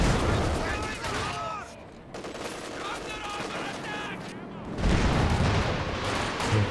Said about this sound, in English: Here comes all the artillery.